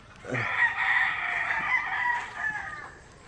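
A fighting rooster on a farm crows once, close and loud, a single drawn-out cock-a-doodle-doo lasting about two and a half seconds.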